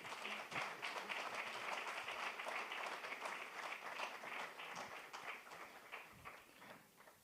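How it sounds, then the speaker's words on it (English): A crowd at an environmental symposium applauds in a sustained, even patter of many hands clapping, moderately near, gradually tapering toward the end. "I think they deserve a round of applause as well."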